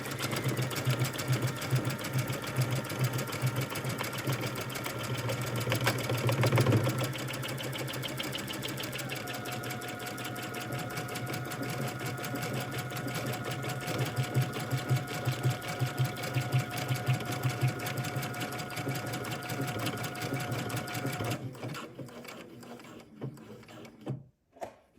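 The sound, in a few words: sewing machine stitching a buttonhole on a belt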